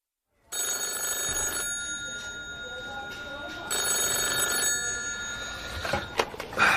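An old-fashioned telephone bell rings continuously in bursts, a bright metallic trill that fills the room and grows louder near the end.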